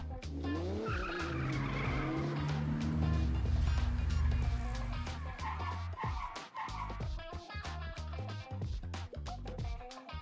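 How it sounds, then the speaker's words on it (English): Fancy black cars screech up in the video game Blue Archive: loud, drawn-out tire squeals and skidding over engine roar, with a close burst of clattering, knocking hits as the vehicles stop. "Why are all these fancy black cars pulling up right now?"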